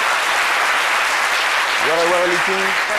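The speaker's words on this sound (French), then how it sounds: "J'aimerais vraiment qu'on applaudisse aussi pour la fondatrice." Audience applause for the founder of Village Kiyi, a dense, even wash of clapping from start to finish, with a voice rising briefly over it near the end.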